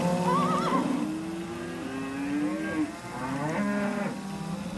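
Cattle low repeatedly in a hill pasture during a fall gather, several long moos overlapping at close and middle distance over a steady outdoor background.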